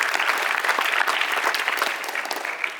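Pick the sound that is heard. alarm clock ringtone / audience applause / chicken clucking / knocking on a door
audience applause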